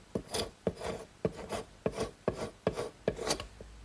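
A hand scraper rasps along the edge of a dried, curved wooden rail blank for a DIY console table, in about eight close, rhythmic strokes with no voices.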